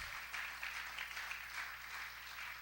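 Congregation clapping during a church service, a soft continuous patter of many hands at moderate distance, ending with a sudden loud thump.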